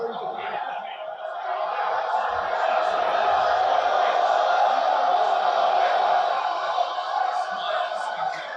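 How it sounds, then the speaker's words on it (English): Large wrestling crowd chanting together in unison, a loud, steady roar that swells and holds for several seconds, heard from within the arena. "We are chanting in unison. That is a loud ass crowd."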